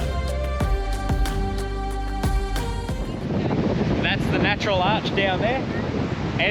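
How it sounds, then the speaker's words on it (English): Strong wind roars across a microphone on a coastal headland above a sea cave and natural arch, with waves below. A steady, tonal rumble is heard at first, then gusty buffeting takes over while a person talks. "And it is bloody windy."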